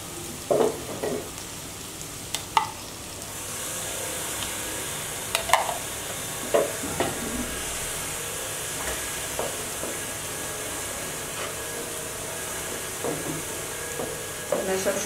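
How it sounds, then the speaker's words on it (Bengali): An egg fries beside vegetables in a pan while making egg vegetable fried rice, a soft steady sizzle carrying through with occasional brief clinks and stirring taps, fairly quiet and with no talking. "আপনারা সবসময় চেষ্টা করবেন ডিমটা সবজির পাশাপাশি এভাবে ফ্রাই করে নিতে।"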